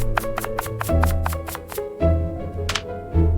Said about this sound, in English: First, finely chop the fresh garlic so the flavor spreads beautifully inside the butter.